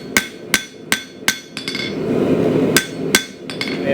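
A hammer strikes hand-forged coil spring steel knife stock in sharp, evenly spaced ringing blows, about ten hits in four seconds with a short pause of rumbling noise midway, loud and close with no talk.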